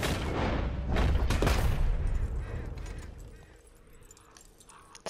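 A gunshot in Red Dead Online fired up at a bird's nest in a tree: a loud, booming report that fills the opening seconds, then rings out and decays into a long, fading tail.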